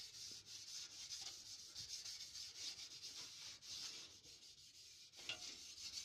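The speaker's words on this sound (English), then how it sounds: "here's an abrasive pad, and now we're going to go in and roughly sand it all the way down" An abrasive pad rubs back and forth inside the rusted sill of a Golf 5 car, a continuous close scratchy sanding with a steady rhythm and no speech.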